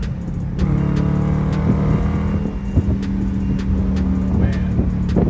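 Supercharged Chevrolet C6 Corvette engine pulling hard under acceleration, a steady loud drone with a rising low rumble heard from inside the car, with no talk over it.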